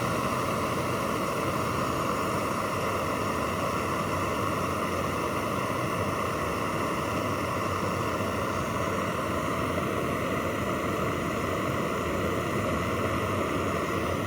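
Water on a camp stove at a rolling boil, a dense, steady hiss and rumble that runs unbroken and fairly loud throughout with no voices.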